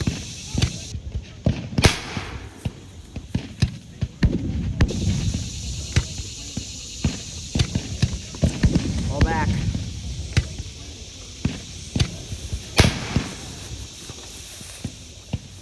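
Muskets fire in Civil War volleys at the Battle of Antietam, sharp irregular cracks and pops ringing out over a noisy field, some close and loud, others farther off.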